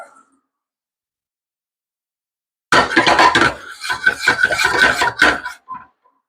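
A utensil clatters and scrapes against a pan while stirring beef stroganoff, a loud, busy run of clinks and knocks that starts abruptly after silence and continues for a few seconds.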